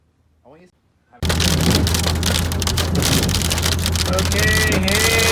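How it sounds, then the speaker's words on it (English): Hail begins suddenly after a brief quiet voice, hammering down as a loud dense clatter of hard pellets on surfaces that continues steadily, with a person speaking excitedly over it. "Okay, hail!"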